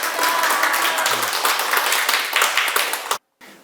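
Hearty applause from an audience at a Sunday Q&A lecture, loud dense clapping for about three seconds that stops abruptly, followed by a brief return of room sound.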